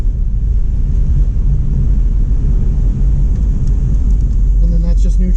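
A 73-year-old Plymouth car with a manual H-pattern gearbox driving with its engine running: a loud, constant low rumble fills the interior, with faint voices near the end.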